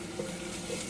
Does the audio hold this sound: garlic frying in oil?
yes